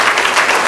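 A brief, loud burst of crowd applause at a health talk, thick continuous clapping from many hands close by, lasting under a second.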